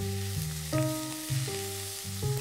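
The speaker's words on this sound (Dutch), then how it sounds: "Dat bakken we een beetje uit." Onions and carrots fry in oil in a pan for a herring escabèche, giving a soft, continuous sizzling hiss beneath a simple stepped melody.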